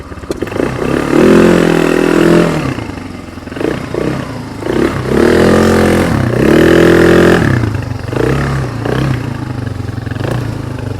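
Spark SP 200-4 quad bike riding through a forest, its engine loud and close, rising and falling in repeated revs with a rough, clattering idle between them.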